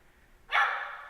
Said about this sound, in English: Barking can be heard from every corner of the Madison Oglethorpe Animal Shelter